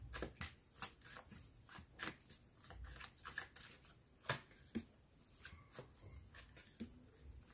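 Tarot or oracle cards being shuffled for a reading, a steady run of quick riffling snaps and soft card slaps, close and fairly quiet with no talk.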